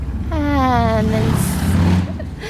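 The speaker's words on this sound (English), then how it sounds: "I don't know if you can hear those motorbikes in the background." Motorbikes pass in the background, their engine note rising and then fading over a couple of seconds, with a voice-like murmur mixed in.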